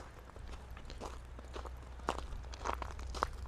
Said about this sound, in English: I'm sure you guys can hear all this crunchy stuff I'm walking on. It's all ice. It's all crunchy ice and snow.